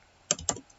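Two quick, close key presses on a computer keyboard while entering figures into an Excel spreadsheet, crisp and isolated with quiet around them.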